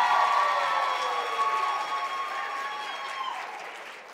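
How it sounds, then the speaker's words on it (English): Applause from a luncheon audience at an awards event, a dense, steady burst of clapping from many hands that is loud at first and gradually fades, with faint cheering mixed in. "let's give a round of applause to UnitedHealth Group"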